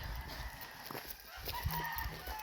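Gamecocks kept in Murcia, Negros Occidental cluck and crow faintly at a distance, scattered calls over a steady outdoor hum with a soft thump midway.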